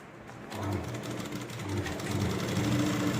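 A sewing machine stitches lehenga fabric in a close, steady whirring run that starts after a brief pause and holds an even mechanical hum throughout.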